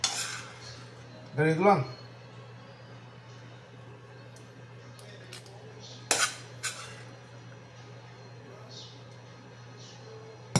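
A scooper scraping and clinking against a pan while portioning chicken fried rice, a few short metallic scoops and clanks spread out over a steady hum, with brief talk.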